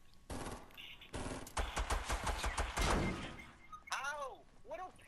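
Rapid bursts of pistol fire in the video game Fortnite, quick dense volleys of sharp shots in several clusters, mixed with game effects and a voice exclaiming over them.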